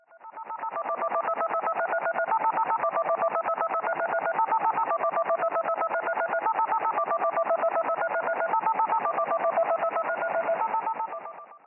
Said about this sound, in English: I tried to decode the DTMF tones